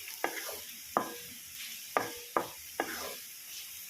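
A spoon stirs masala-coated potato fry in a pan, giving four or five sharp scraping strokes at a steady pace over a soft, continuous sizzle, close by with no talk.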